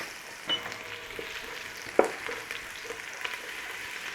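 Chopped garlic sizzles in a hot pan while being stirred, a steady frying hiss with a few scraping clicks and one sharp clank of utensil on metal.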